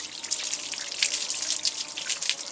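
Water runs from a tap into a sink with a close, steady splashing and dripping hiss that lasts a couple of seconds, with no talking.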